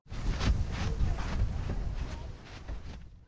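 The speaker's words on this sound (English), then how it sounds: "We've got some good wind now" Gusty wind buffets the microphone on an open coastal beach during a wingfoiling trip, a loud rumbling rush that swells and fades over a few seconds with a hint of voices.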